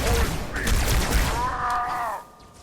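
Covenant weapon from Halo 2 Anniversary with the SPV3 mod firing in a rapid burst of shots, followed by a rising and falling whine, all loud and close.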